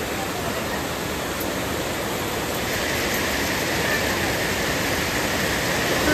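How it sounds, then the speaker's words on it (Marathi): Fast-flowing river water at a Konkan riverside bathing spot roars as a loud, dense broadband rush that swells slightly partway through and continues unbroken, with no clear talk over it. "पाण्याचा फ्लो खूप जास्त आहे"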